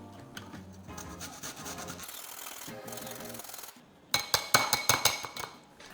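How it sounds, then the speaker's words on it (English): Fresh ginger rubbed over a kitchen grater in quick, rhythmic scraping strokes that pause briefly, then give way to a few sharp clinks and taps at the end. "Grate in ginger,"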